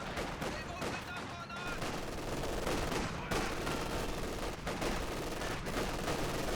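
Machine gun fire from a Soviet Maxim gun in the real-time strategy game Company of Heroes 2, sustained loud rattling bursts mixed with other battle noise, with speech over the top.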